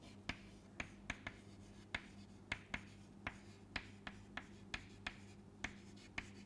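Chalk or marker tapping and scratching on a board during a lecture on lasers, a dozen or so sharp, faint clicks spaced irregularly over a steady low hum, with no talking.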